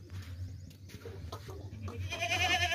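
A plump, clean castrated two-tooth goat offered for sacrifice bleats close by, a short cry near the end over a low background hum.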